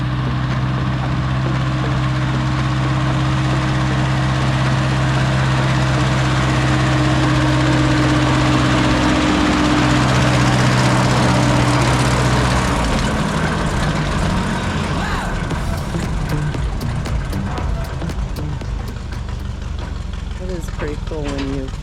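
Plymouth locomotive engine running continuously with a steady low drone and mechanical clatter, loud and close, with some sharper knocks toward the end.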